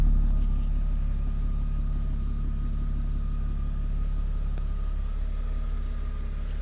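A car engine runs with a throaty exhaust note in a Mercedes-Benz workshop setting, a continuous deep rumble that starts strongest and slowly eases, with no talking over it.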